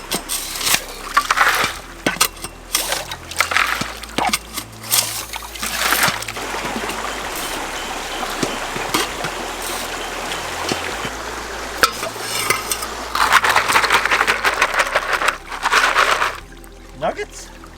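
A gold pan swirls water and gravel in a stream, giving a steady, close, loud sloshing and gritty rattle of stones that surges and eases in waves.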